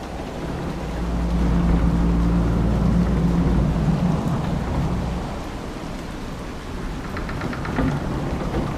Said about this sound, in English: Plus, I could use the sun if this storm ever clears.